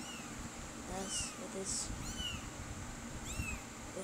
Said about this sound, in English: this is the other cat. It has white fur and orange.